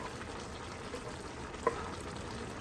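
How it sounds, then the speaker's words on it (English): Diced tomatoes tipped into a hot pan for seafood spaghetti give a steady, soft frying sizzle that runs throughout, with a faint stir or clink partway through and no talk. "Right now I have to add the tomatoes diced"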